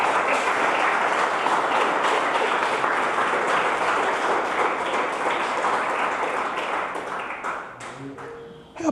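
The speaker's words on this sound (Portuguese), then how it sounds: "Dê uma salva de palmas para Jesus." Church congregation applause during a sermon, a sustained, full roar of many clapping hands that holds steady for several seconds and then thins out near the end.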